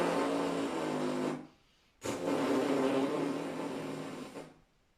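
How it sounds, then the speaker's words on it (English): Closed lips buzzing with forced air, the bare brass embouchure vibration with no mouthpiece, in two sustained raspy bursts with a short gap between them, fairly loud and close. "we then blow air through the closed lips, forcing them to vibrate"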